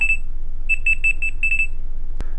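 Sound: Amazon Fire tablet remote alarm ringing

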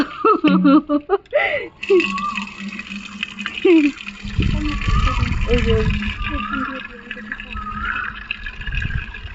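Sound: pouring water to wash a pot

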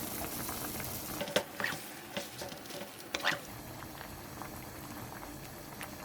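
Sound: water starting to boil in a pot for radish tteokbokki

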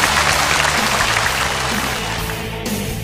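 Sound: audience applause welcoming contestants

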